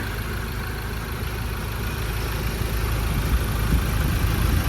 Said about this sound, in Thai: ตอนนี้เราสตาร์ทเครื่องยนต์อยู่นะคะ